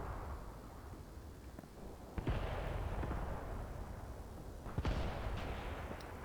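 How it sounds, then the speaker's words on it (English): Mortar or artillery fire in a Graviteam Tactics battle on the Mius Front: a dense low rumble of battlefield noise, punctuated by two sharper, louder impacts or blasts a few seconds apart, with no talk. "Seems like now we're taking some kind of artillery, probably company level mortars"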